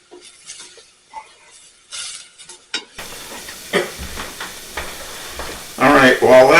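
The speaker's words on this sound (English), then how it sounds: "aromatics over there are sauteing" Aromatics for saffron rice sauté in a pan, soft sizzling and hissing broken by scraping stirs and clinks of utensil on metal, growing louder and denser toward the end, close by with no talk.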